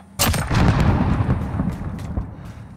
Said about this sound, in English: that's where you're going to want to throw the nade